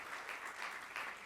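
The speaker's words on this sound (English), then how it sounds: "Please give Liba a round of applause if you know" Brief, faint burst of applause from the audience at a healthcare tribute dinner, a soft wash of clapping heard for just over a second.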